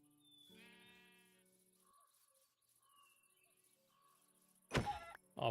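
A single sheep bleat in Minecraft sounds early as a short wavering cry, followed by quiet game ambience and a loud, sharp burst of noise near the end.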